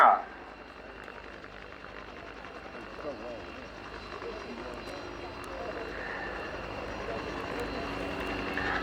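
A Westland Whirlwind helicopter with a Gnome turboshaft engine, roughly 1,050 shaft horsepower, passes slowly at the Yeovilton airshow, its steady turbine whine and rotor drone holding at moderate distance and building slightly as it nears, with talk over it.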